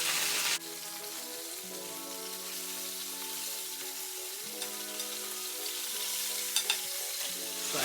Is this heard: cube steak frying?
yes